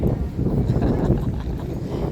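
Strong wind roars and buffets steadily outdoors during the Araw ng Davao parade in Davao, a dense low rumble of gusts filling the whole clip with no pauses.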